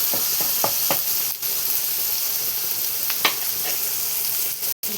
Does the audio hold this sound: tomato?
yes